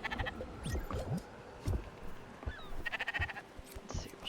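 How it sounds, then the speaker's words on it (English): Sheep in a video game give a few short bleats amid soft clicks and game sound effects, faint and brief against a quiet background while the animals are being sheared. "we'll shear the sheep"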